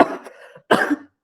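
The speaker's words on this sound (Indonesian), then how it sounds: "mohon maaf teman-teman batuk" Two short, sharp coughs close to the microphone, separated by a brief pause, from someone in a classroom-style online session.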